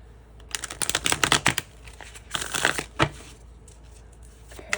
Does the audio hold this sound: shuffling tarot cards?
yes